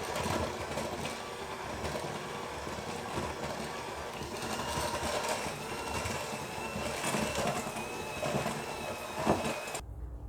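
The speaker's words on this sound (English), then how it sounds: "I'm going to mix it all together with my mixer" An electric hand mixer whirs steadily while it beats cookie frosting with a little added milk, a dense, continuous motor hum with some rattle that stops abruptly at the end. It is close and moderately loud, with no speech.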